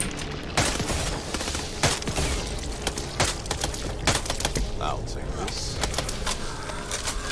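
Suppressed gun shots from a first-person zombie shooter, Back 4 Blood, firing in irregular bursts of sharp cracks amid game noise, with players talking over them.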